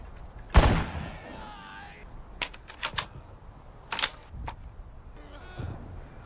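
One sharp gunshot rings out in a war film about a sniper, a loud close crack followed by a brief voice and several lighter mechanical clicks and knocks.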